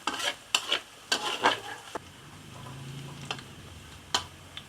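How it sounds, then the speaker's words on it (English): Garlic sautés in a pan, with sharp scraping stirs and clicks of a utensil against the pan over a low, quiet sizzle. "Saute the garlic till slightly brown."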